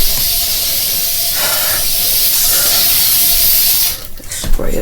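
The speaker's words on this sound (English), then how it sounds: "Spray a bit." Spray bottle hissing steadily while cleaning at home, a continuous close spray lasting about four seconds and then breaking into a few short clattering knocks, no speech.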